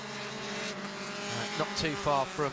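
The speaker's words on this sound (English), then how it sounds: "So the cars forming up behind the safety car" Mazda MX-5 Cup race cars forming up behind a safety car at a circuit, their engines droning steadily in the background while a commentator talks over them.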